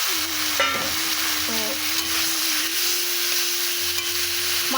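Tomatoes tossed into a frying pan for Bengali-style chili chicken, sizzling steadily and loudly throughout with a faint stirring scrape and a brief word spoken over it.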